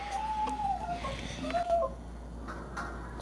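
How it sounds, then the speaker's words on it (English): Backyard chickens give a few short clucks and calls, fairly faint against a quiet outdoor background. "We've got chickens!"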